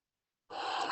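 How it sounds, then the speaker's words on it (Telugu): A single deep, drawn-in breath during seated yoga practice begins abruptly after a moment of silence and continues as a close, airy inhale. "ఐదు పర్యాలు నిండు శ్వాస తీసుకొని తీసేయండి"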